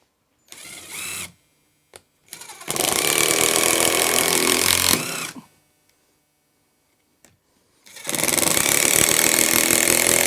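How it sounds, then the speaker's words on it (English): A power driver sinks 3-inch wood screws through into wall studs in three loud whirring, ratcheting bursts, a short one followed by two long sustained runs separated by quiet pauses and small clicks; no talking. "we've got 3-inch wood screws that are going to go all the way through and into the studs"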